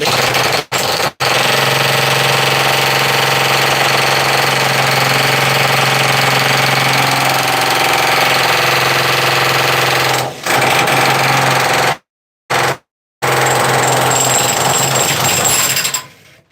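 A jackhammer chips hardened concrete set inside a concrete mixer vehicle, a loud, continuous rapid rattle, stopping briefly a few times before starting again.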